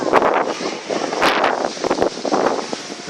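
Gusty wind buffets the microphone in rough, fluctuating bursts, loud and close, with rustling noise throughout and no talking.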